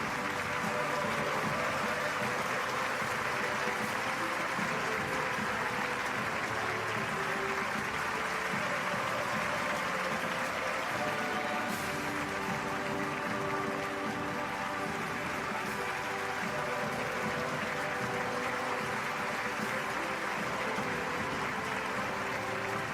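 Sustained, dense applause from a large crowd at a hope rally, welcoming a speaker. It forms a steady, even roar like heavy rain that holds for over twenty seconds without a break.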